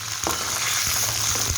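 Crab pieces fry loudly in a hot pan of spiced masala for a crab curry, giving a continuous close sizzle with occasional dull thumps and scrapes as the pieces settle and are turned.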